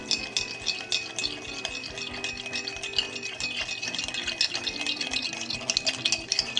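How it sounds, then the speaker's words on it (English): A bar spoon or muddler mashes sugar into bitters for a rye Sazerac cocktail, giving a steady run of close, quick scraping and rattling taps against the glass, busy and continuous throughout. "Grab a bar spoon or a muddler, and then mash the sugar into the bitters."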